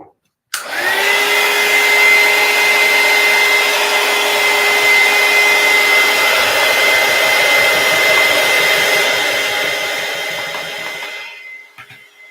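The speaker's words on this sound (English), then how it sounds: "Let me see where my dryer is." A hair dryer drying acrylic paint switches on with a whine and runs steadily and loudly for several seconds before powering down.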